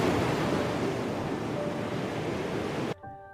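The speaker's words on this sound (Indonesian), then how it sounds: "Hanya suara badai dan laut yang menelan segalanya." A film storm at sea roars with dense wind and crashing waves, a thick steady wash of noise that cuts off abruptly near the end into a faint tonal hum.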